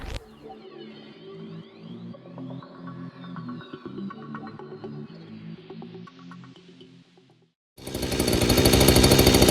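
Weed whacker fitted with a wire bristle brush head runs loud and steady with a rough, throbbing drone for several seconds, cuts out briefly, then a much louder, harsher burst of scraping noise kicks in.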